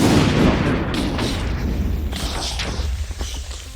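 A dense barrage of booming explosions and crackling bursts in Minecraft, loud and continuous, with heavy low rumble fading a little toward the end.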